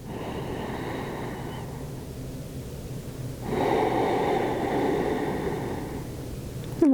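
Deep yoga breathing during a guided moon salutation: one long, steady breath that rises into a louder, airy rush midway and then eases off, close and with no talk over it.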